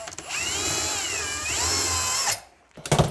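A power drill whirs steadily while driving through drywall during an attic ladder relocation, its pitch dipping and rising under load for about two seconds, then stopping, followed by a brief clatter.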